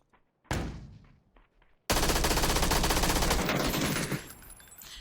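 A video game gun fires one sharp shot, then after a short pause lets off a loud, sustained automatic burst lasting about two seconds before cutting off.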